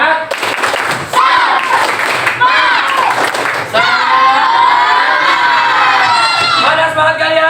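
Fifth-grade schoolchildren in an Indonesian primary classroom clap in a brisk rhythmic chant, then break into loud, sustained group shouting and cheering, close and energetic.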